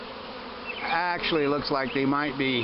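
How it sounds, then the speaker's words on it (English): Swarm of honey bees buzzing in a backyard, a low hum running throughout under a man's close, loud voice that dominates the clip. "Now these bees are actually"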